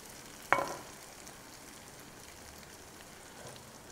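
Garlic sizzles in a pan with onions, a steady soft crackle of frying throughout, opened by a sharp clink as something touches the pan.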